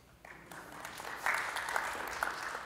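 An audience at a tech conference session bursts into applause that swells from quiet into a sustained round of clapping across the room, with a few voices mixed in.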